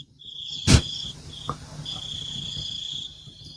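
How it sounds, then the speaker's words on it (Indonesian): Crickets chirp in a steady, high, continuous trill that runs through most of the stretch, briefly interrupted by a sharp thump near the start and a faint tap shortly after. "Ini yang suara jangkrik di mana ya"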